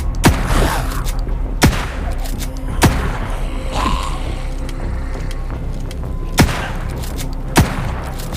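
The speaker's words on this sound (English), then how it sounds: "Gunshots will attract more zombies." Gunfire in the zombie game Undawn, loud single shots cracking out at irregular intervals over a low rumbling backdrop.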